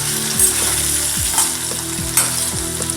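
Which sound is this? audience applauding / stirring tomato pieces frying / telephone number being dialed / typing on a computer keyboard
stirring tomato pieces frying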